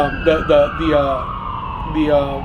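Emergency siren, an ambulance or police-type wail, sounds steadily at middle distance under loud overlapping talk.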